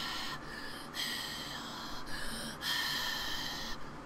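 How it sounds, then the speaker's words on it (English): Heavy, breathy inhales and exhales open an album, several slow airy breaths in a steady rhythm, close and intimate with no voice or music over them. "why is there all this heavy breathing"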